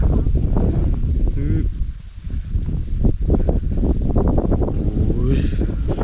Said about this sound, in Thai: สงสัยลมแรงมากนะครับ